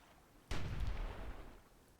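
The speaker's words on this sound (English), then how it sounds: "But MP is going to use some giant bombs, it looks like." A giant bomb explodes in the fantasy strategy game Myth II: Soulblighter, one sudden deep boom after brief quiet, rumbling and fading over about a second and a half.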